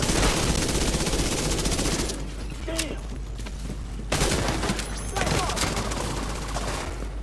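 Heavy gunner enemy in The Division 2 fires a machine gun in dense, sustained bursts, loud and close, with a brief lull in the middle before the rapid fire resumes.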